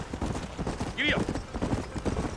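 A horse's hooves clop rapidly at a gallop in the Red Dead Redemption video game, a quick close rhythm running throughout, with a short whinny-like squeal near the middle.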